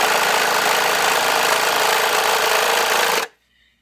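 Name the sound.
Viair 400P portable air compressor running, inflating tire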